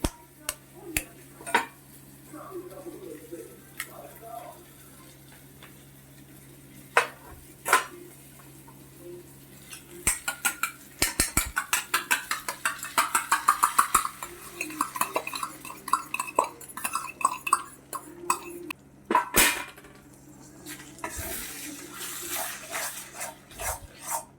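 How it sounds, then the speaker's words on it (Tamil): A second egg cracks into a hot pan for egg rice, with sharp taps and clicks followed by a dense burst of crackling and spattering at close range, then quieter kitchen clatter. "இந்த 2வது முட்டை உடச்சி ஊற்றுறேன்."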